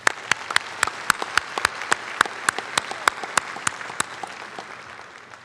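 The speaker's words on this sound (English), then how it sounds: "Please give them a round of applause" Applause at a college commencement ceremony: a dense crowd backdrop punctuated by sharp, loud individual claps landing close by in a fairly regular rhythm, thinning slightly toward the end.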